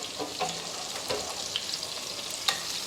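Parmesan-crusted pork chops fry in a pan with a soft, fairly quiet sizzle, dotted with light crackles and a few small clinks.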